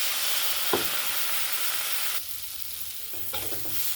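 Ground chilli, Kashmiri chilli, cumin, coriander and garam masala powders cook with a little water in a pan, giving a steady close sizzle with brief stirring scrapes and a few soft knocks.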